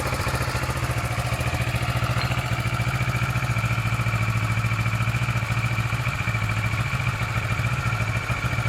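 A 2012 Kawasaki Ninja 650 ABS motorcycle idles steadily nearby, its twin-cylinder engine putting out an even, rapid low pulsing hum with light mechanical clatter and no voices.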